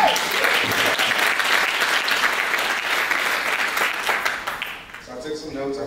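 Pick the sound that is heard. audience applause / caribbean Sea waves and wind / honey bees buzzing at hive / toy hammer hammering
audience applause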